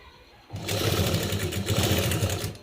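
A sewing machine stitches a fabric face mask, starting after a brief quiet moment and then running steadily and fairly loudly to the end.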